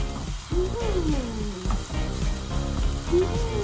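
Leeks sauté in a pot for salmon chowder, a steady sizzle with a spoon stirring through it, while a voice talks over the cooking throughout.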